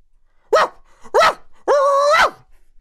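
Three barks, two short and one longer drawn-out one, loud and close, with near silence between them; the pitch sweeps like a voiced imitation.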